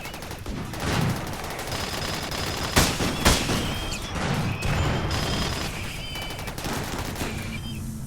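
Dense video-game gunfire in Rimworld as colonists shoot at turrets, a continuous crackling fusillade with a couple of sharper bangs and overlapping weapon sounds throughout.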